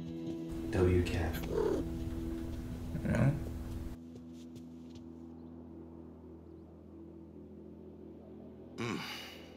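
Cat in the As Dusk Falls video game purring, a low, steady, faint rumble that keeps going once the game speech and background noise drop away.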